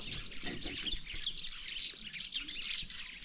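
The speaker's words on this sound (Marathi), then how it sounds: "ह्याच्यावर चिमण्या ओरडत आहेत भरपूर" Many sparrows chirp busily at once in a Konkan village, a dense, continuous twittering chorus at moderate distance with no talking.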